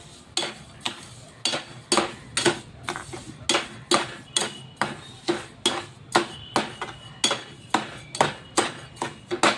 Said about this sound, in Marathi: याला आता साखर विरघळेपर्यंत फिरवत राहायचं.